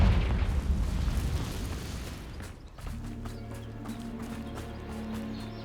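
The Confringo spell explodes in the Hogwarts Legacy video game, giving a loud rumbling boom that decays over a couple of seconds into a quieter sustained magical hum with light crackles.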